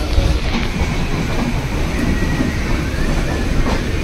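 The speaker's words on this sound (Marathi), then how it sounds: "चला एक मेल उभी आहे इकडे" A mail express train standing at a railway platform in the Konkan region, a loud continuous rumble of the train and station noise with faint rattling, no speech.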